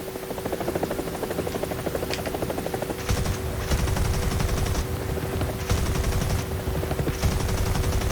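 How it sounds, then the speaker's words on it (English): A steady helicopter rotor drone in War Thunder, joined partway through by rapid bursts of heavy cannon fire that repeat several times. "I'm using the cannon now."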